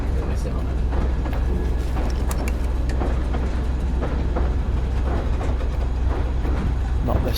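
Moving train in a video game, a continuous heavy low rumble running throughout with clattering texture, while people talk over it.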